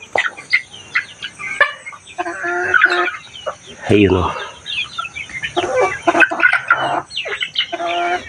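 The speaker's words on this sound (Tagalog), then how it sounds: "Masarap at masaya tingnan na maraming mga buhay na manok dun." Live chickens clucking steadily at a family home in the mountains, a busy flock of many birds with overlapping calls and a rooster crow, while someone speaks briefly nearby.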